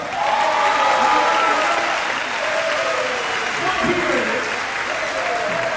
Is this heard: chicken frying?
no